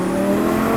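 A sports car engine accelerates hard up a highway on-ramp, producing a loud, steady, continuous roar heard close from inside the car during a very brief burst.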